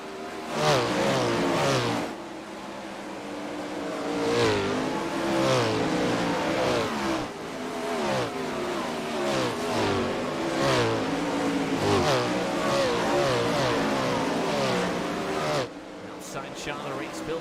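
Outlaw 410 sprint cars race in single file during a heat race in iRacing, engines snarling and revving continuously with rising and falling pitch as cars pass, under a commentator's voice.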